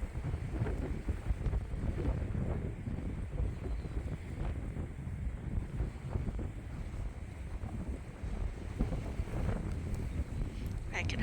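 Strong, gusty wind blows steadily across an open sheep farm, buffeting the microphone with a continuous low roar from start to finish.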